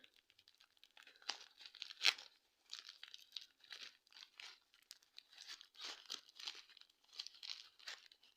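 Loose packing paper from a Nova Poshta parcel being crumpled and torn close up, a steady series of crackling, crinkling bursts with short pauses and no talking.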